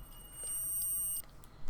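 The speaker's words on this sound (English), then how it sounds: "when I touch these, you might hear that, you get a beep" A multimeter in continuity mode gives a short, high, steady beep, about three-quarters of a second long, heard faintly and alone, while its probes touch a model Routemaster bus part.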